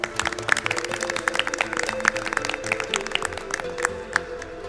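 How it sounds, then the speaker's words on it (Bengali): Studio audience at a Bengali family game-show taping claps steadily for several seconds, a dense, even patter of many hands with a faint tonal hum underneath. "নিজেদের জন্য একটা জোরে করতালি দিই"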